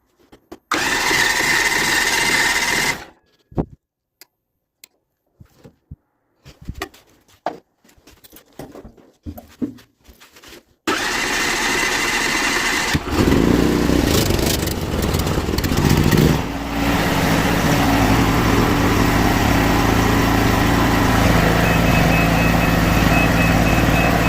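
A three-phase 7.5 kVA gasoline generator with electric start makes sputtering start attempts with intermittent bursts, then catches and runs with a loud, steady engine drone close by.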